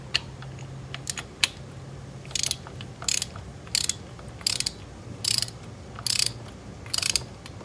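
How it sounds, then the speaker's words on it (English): A torque wrench ratchets while tightening a spark plug on an Acura ZDX to 16 foot-pounds, with crisp clicking bursts repeating in a steady rhythm, close up, over a low background hum. "let's go ahead and torque it, 16 foot-pounds"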